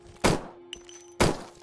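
Gunshots from the survival horror video game Endless Nightmare 2: Hospital: two loud, sharp reports about a second apart, each with a short decaying tail, over a steady low hum and faint small clicks between.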